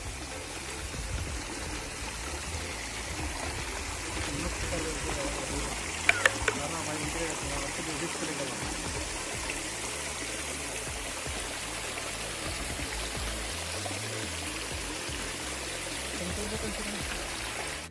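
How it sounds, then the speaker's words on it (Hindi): Waterfall in a deep gorge, heard as a steady broadband rush of falling water that fills the scene continuously, with a few brief knocks partway through and someone talking over it. "देख सकते हो गाइस झरना है"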